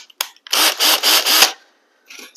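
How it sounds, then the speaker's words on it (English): Screws are driven into pre-drilled holes in 2x4 wood for a potting bench, heard as four quick loud grinding bursts in a row followed by a pause and a fainter scrape at the end. "put in my screws"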